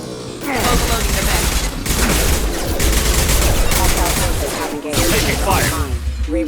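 Sustained, dense gunfire in a Mass Effect 2 firefight: loud, overlapping bursts of shots and blasts that rattle on almost without pause, with brief voices mixed in.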